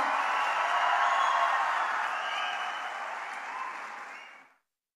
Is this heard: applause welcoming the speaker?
yes